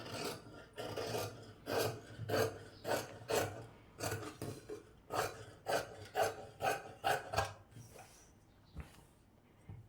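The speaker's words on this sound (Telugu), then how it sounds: "ఇప్పుడు నేను ఇది ఎలా కట్ చేస్తున్నా అనేది ఒకసారి క్లియర్గా చూడండి" Scissors cut through blouse fabric in a steady run of rhythmic, raspy crunching strokes, close up and fairly quiet, about a dozen cuts before they stop.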